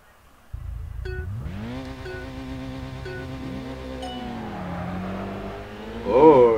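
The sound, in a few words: car engine racing in Kaido Racer 2 video game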